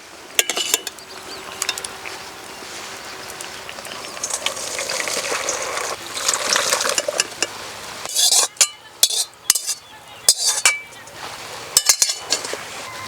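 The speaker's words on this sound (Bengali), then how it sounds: "এবার সিদ্ধ করা মূলো ছিদ্রযুক্ত চালনে ঢেলে নেব।" Boiled radish and its cooking water are tipped from a pot into a perforated colander in a home kitchen. A steady gushing pour gives way to scattered metallic clinks and knocks of the pot and utensils, heard close.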